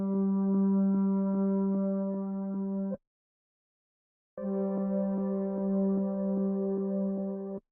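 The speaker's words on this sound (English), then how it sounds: "this next layer is just from a synth that I played in later in the sample" A synthesizer plays a sustained, harmonically rich drone as an ambient texture layer, holding steady for about three seconds, dropping out into silence, then returning and sustaining again.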